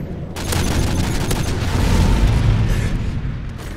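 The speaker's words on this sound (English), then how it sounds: "Predator missile inbound." A Predator missile strike in Call of Duty: Modern Warfare 3, a loud, close, sustained explosive roar with heavy low rumble that holds for several seconds before easing slightly.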